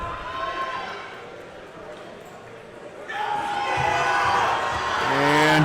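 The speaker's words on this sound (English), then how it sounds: "You can hear the crowd getting behind Tanner." A powerlifting crowd at a national championship meet cheers on a raw lifter's squat attempt, with the noise swelling from a murmur into loud shouting. An announcer talks over it.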